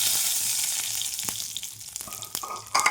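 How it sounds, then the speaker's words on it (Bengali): Five-spice seeds and a dried red chilli crackling in hot oil, a close sizzle with scattered sharp pops and spits that grow denser toward the end. "আমি 5 ফোড়ন দিলাম, একটা শুকনো লঙ্কা দিলাম, আর 5 ফোড়ন দিলাম।"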